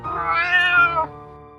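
A cartoon cat gives one loud, drawn-out meow with a rising then falling pitch, alone in the clip and clearly close.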